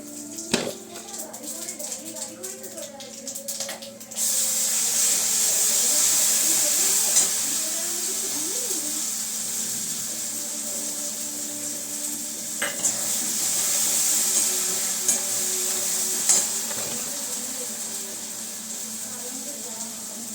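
Black cumin seeds tempering in hot mustard oil, a steady bright sizzle and hiss that swells as the seeds hit the pan, with occasional clinks of utensils and no talking.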